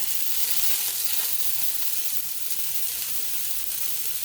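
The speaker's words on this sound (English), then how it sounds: "So we're going to throw a little bit more oil in the pan over on this side." Oil sizzles steadily in a frying pan being readied for egg fried rice, a dense, even hiss that holds close and loud throughout with no voices.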